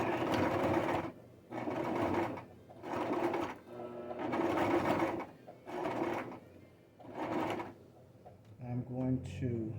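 A home sewing machine zigzag stitching fabric, heard as five bursts of rapid mechanical whirring separated by short pauses, then quieter handling with a voice talking at the end.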